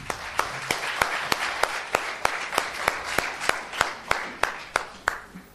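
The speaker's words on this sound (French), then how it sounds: "Qu'on peut applaudir, bien sûr." An audience at a regional children's reading competition final claps to welcome the next young contestant, a fairly sparse applause with distinct individual claps ringing out in a loose, steady rhythm over a softer patter for about five seconds.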